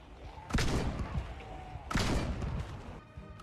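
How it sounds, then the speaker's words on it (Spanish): Gunfire in the Project Zomboid video game: two heavy, booming shots about a second and a half apart, each trailing off into a rumbling tail. "No te veo, pero te escucho disparar"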